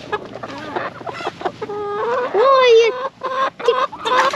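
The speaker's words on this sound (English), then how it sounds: "It's a blue lace red wyandotte." A blue laced red Wyandotte rooster among other chickens, with busy clucking followed by a loud, drawn-out rooster call in the middle, near and clear.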